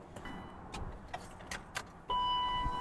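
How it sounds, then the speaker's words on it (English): A BMW is switched on with a few light clicks and key jingles, then a steady electrical hum with a faint chime tone comes in, close inside the car with no talking. "Now let me turn the car on"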